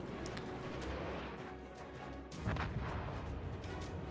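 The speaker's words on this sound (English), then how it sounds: "He bombs the Bismarck, yeah?" Bombs striking the Bismarck battleship in World of Warships, heard as a series of heavy booming blasts and cracks over a rumbling battle ambience, with a bigger impact surge near the end.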